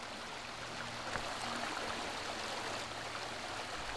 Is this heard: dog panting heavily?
no